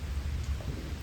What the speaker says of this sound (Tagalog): Medyo lumalakas na yung ulan.